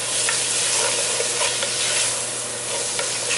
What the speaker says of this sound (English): So saute it for about 4 minutes or so.